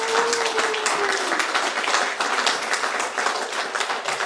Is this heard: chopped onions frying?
no